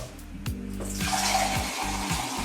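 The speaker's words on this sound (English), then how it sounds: "we're going to put some water into the pot like this" Water runs into a medium-size empty cooking pot, a steady rushing splash that fills the whole stretch, close and fairly loud over a low hum, with no talk.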